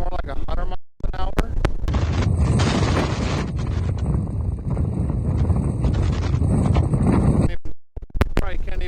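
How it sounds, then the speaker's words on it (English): Strong wind during a dust storm under a high wind warning roars and buffets the microphone almost continuously for about nine seconds, loud and close, with two short drop-outs. "it says we got a high wind warning today of like 50 miles an hour, but it's more like 100 miles an hour"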